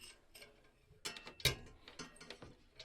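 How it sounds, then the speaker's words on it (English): Threaded metal bar of a black six-light farmhouse lantern chandelier being screwed into place, giving quiet scattered metallic clicks and ticks, close and fairly soft, with one sharper rattle midway. "start to thread in 1 bar at a time and screw down"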